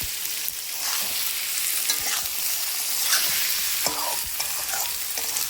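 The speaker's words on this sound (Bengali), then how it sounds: "মিশিয়ে নিয়ে সুন্দর করে ভাজা করছি" Tomatoes frying with fish and taro stems in a pan, sizzling steadily while a utensil stirs and scrapes through them in irregular strokes, close and moderately loud.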